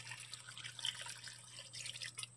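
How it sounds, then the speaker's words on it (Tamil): Water trickles and drips into a pot of crushed jaggery, a soft, steady close pour with a low hum underneath. "இப்போ இதில் கொஞ்சமாக தண்ணி விட்டுலாம்"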